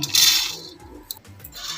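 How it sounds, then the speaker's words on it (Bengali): Whole coriander seeds tumble into a frying pan already holding fried dried chillies for a Bengali jujube pickle, giving a short, bright, gritty rattle that fades into a soft sizzle with a few light clinks. "এবার আমি গোটা ধনেটা দিয়ে দিচ্ছি"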